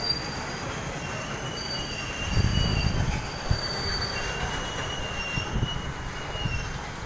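A train rolls past near Ratnagiri, Maharashtra, its wheels squealing steadily against the rails with a low rumble and a few louder thumps, close by and continuous, with no voices.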